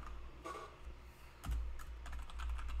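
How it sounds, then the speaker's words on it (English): A computer keyboard clicks softly and steadily as a line of code is typed into Visual Studio Community 2019, with a low hum running underneath. "I'm going to type in, just like they have here, we got one line of code."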